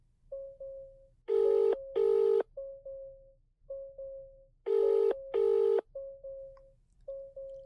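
Steady repeating tones of a phone line after dialing a roadside assistance number, interrupted by two pairs of loud, bright double ringing bursts, all clear and close with no voices.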